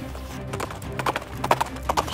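Cartoon horse hooves clip-clop in an irregular trot, sharp hollow knocks growing a little louder over a low rumbling background.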